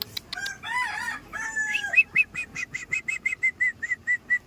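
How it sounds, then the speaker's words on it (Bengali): A rooster crows repeatedly, close and loud, among tethered chickens at a seaside spot in Mandarmani, the crow followed by a rapid series of short, evenly spaced clucking calls. "মুরগিও বাঁধা রয়েছে এখানে"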